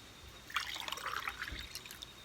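Water pours and trickles into a cup while filling it from a one-liter container in a measuring demonstration, a soft, steady splashing stream for about two seconds, fairly quiet with no talking.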